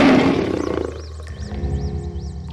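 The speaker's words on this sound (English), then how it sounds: "The lion was mad in anger to hear of another lion and gave out a loud roar" An angry lion roars loudly in a storybook telling of the lion and the hare, with a booming opening blast followed by echoing, wavering cries that fade.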